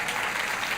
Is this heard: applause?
yes